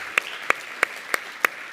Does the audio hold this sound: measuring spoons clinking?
no